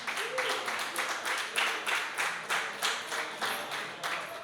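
Audience applause at a live album release concert at a wine lab venue, steady clapping from a small crowd with rhythmic individual claps, moderately close, sustained throughout.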